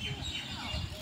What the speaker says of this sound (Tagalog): ang daming bird doon.